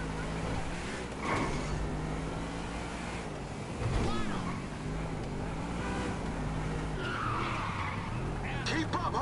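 In the video game GTA 5 on PS5, a car skids with tires squealing under a steady engine roar, and a crash is heard around the middle while game characters and a player talk over it.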